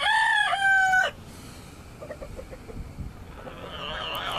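A game fowl rooster crows loudly and close by, a single harmonic call lasting about a second, followed by quieter farmyard rustling and faint clucks.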